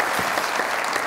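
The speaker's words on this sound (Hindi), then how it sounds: "बहुत सारी तालियां इनके लिए" A studio audience on the Mazaaq Raat comedy talk show claps in a dense, steady burst of applause, loud and close, with no talk over it.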